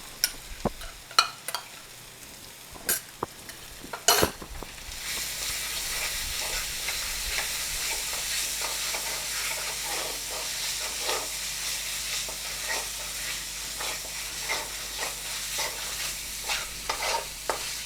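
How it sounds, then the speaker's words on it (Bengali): A spoon knocks a few times against a pan before spice paste mixed with cashew paste is stirred and fried for egg korma curry, settling into a steady close sizzle with rhythmic scraping strokes. "সমস্ত মশলাটা একটু ভেজে নেব, নইলে বাদামেরও একটা গন্ধ আসবে।"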